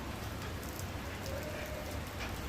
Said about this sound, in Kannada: ಬಿಗಿನಿಂಗ್ನಲ್ಲೇ ವಿಪರೀತ ಮಳೆ ಆಗ್ತಾ ಇದೆ